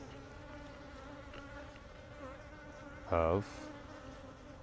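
Honey bees buzzing on a hive frame, a dense steady hum from many nearby bees with a brief louder drone from a single bee passing close, and a short spoken word.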